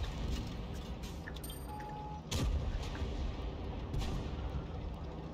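VK tank firing its cannon in a tank video game, one sharp heavy boom partway through over a steady engine and battlefield rumble, with a few lighter distant shots around it.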